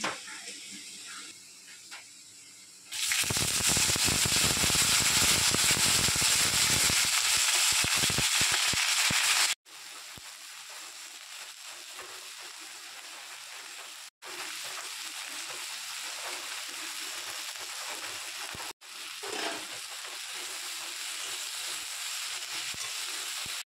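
Chili and garlic dropped into a hot pan with taro greens, erupting into loud, dense sizzling that crackles steadily, broken by a few brief pauses.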